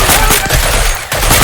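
Rapid burst-fire from a weapon in the video game Deceive Inc., loud and close, with a quick chain of shots rattling together over about a second and a half.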